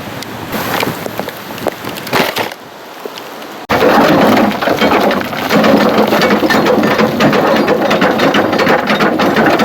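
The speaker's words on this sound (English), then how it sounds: "Just getting rained off." Heavy rain pours down at a granite blasting site as a dense, loud hiss, softer at first, then a sudden jump to a thicker, louder downpour, with occasional rattling, and no one speaking.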